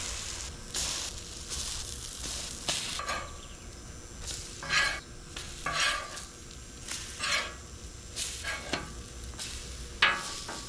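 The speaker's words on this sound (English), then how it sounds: "we're gonna put our French toast directly on the bacon grease" French toast frying in bacon grease on a hot griddle gives a soft constant sizzle, with intermittent scrapes and clatters of a spatula against the metal surface, close, at moderate level, with no voices.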